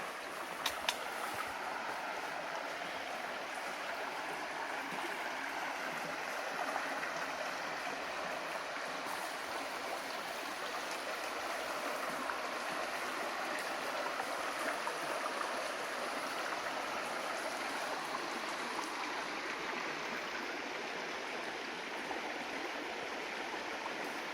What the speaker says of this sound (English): I'll just pause here a minute, taking the sounds of the brook.